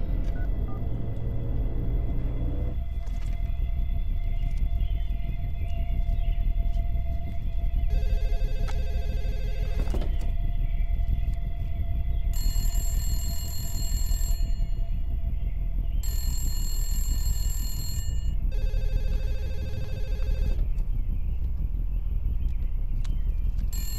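A telephone rings on and off, unanswered, in a Dominican film scene, repeated bright electronic ring bursts separated by short pauses over a steady background hum, with no one speaking.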